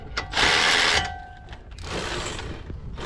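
Rapid ratcheting clicks and metallic tool sounds come close up while brackets are tightened on a Buick Lacrosse front wheel hub, in two bursts with a short pause between.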